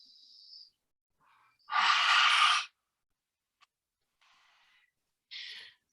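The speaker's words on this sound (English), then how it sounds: "It's going to be accompanied by a whispered roar sound." A forceful whispered roar exhaled with the tongue out during a yoga lion's breath, one long breathy burst between softer, shorter breaths and a faint click in a quiet room.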